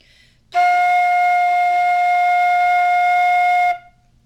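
A flute sounds a single sustained F, clear and steady for about three seconds, close and loud with no speech, preceded by a brief breathy onset.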